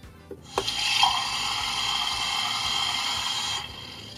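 A steady stream of running water hisses for about three seconds after a couple of small clicks, then cuts off abruptly, from the faucet of a Minnie Mouse toy kitchen sink.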